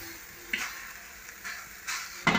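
Onion, bell pepper and cabbage stir-fried for vegetable chow mein, giving faint, intermittent bursts of sizzle and scraping as the vegetables are tossed in the pan, separated by quieter gaps.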